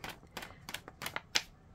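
Glossy embellishment on firm cardstock being tapped to knock off its tip: a run of about six sharp, fairly close taps at an uneven rhythm, with no voice over them.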